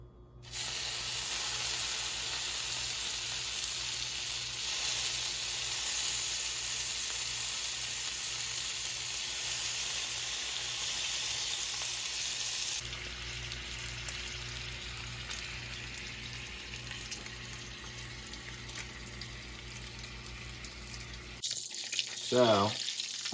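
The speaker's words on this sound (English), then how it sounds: "First, we'll par cook our bacon." Bacon par-cooks in a pan over lower-than-usual heat, giving a steady, even sizzle that drops in level partway through, with a short burst of other noise at the very end.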